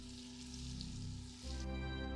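Salted butter sizzles in a medium skillet over medium heat, a steady close crackle and hiss that swells slightly louder partway through, with no talking.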